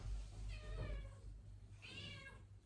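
A cranky housecat gives two drawn-out, complaining meows close by in a quiet room, the second one higher and whinier.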